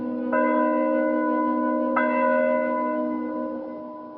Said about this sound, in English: The church bell would be tolling from morning to evening